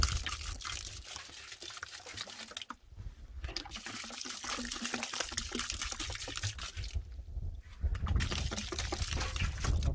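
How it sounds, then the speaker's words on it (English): Water poured from a gallon jug into an aircrete cement mix, a steady continuous splashing pour with two brief pauses, loud and close. "But we need to add more water. So this is another gallon."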